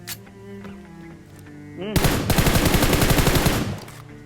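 Rapid automatic gunfire bursts out loud and dense in BGMI, a mobile battle royale game, fired into smoke in Pochinki, after a quiet stretch of game ambience and music.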